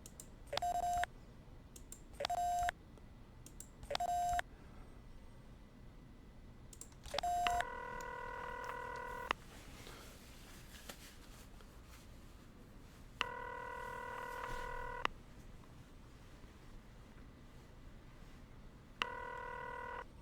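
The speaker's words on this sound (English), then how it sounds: "we can try calling John Amos" Telephone tones in the X-Files FMV game 731: several short dial beeps spaced a couple of seconds apart, then long repeating ringback tones with pauses between, clear and alone.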